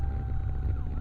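Wailing siren of a hospital ambulance from Iskak hospital in Tulungagung, carrying a patient with a broken bone during an escort run, sounds steadily over low road rumble with no talk.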